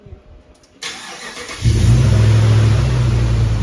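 Hemi V8 swapped into a Grand Wagoneer restarting: a short cranking burst, then the engine catches and settles into a loud, steady idle, close by.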